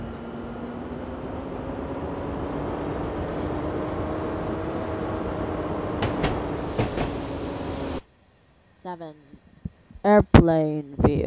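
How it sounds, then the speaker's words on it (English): A long freight train rolls past on the rails with a loud, steady rumble and a droning whine for about eight seconds, then cuts off abruptly as a person starts talking. "See the freight train, it's very long"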